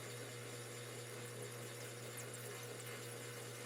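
A metal lathe trepanning a wide, shallow bore in a cylinder head for a Pennsylvania A3 switcher locomotive, giving a steady, even machining whine with a low hum underneath, continuous and moderately distant.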